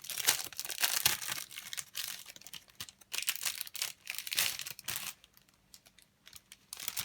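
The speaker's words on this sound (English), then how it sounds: "I'm sorry about the crinkling." Plastic packaging from a Sweet Shop craft kit crinkles and rustles up close while acetate and foam pieces are unwrapped, in irregular bursts of varying loudness with brief quiet gaps and no talking.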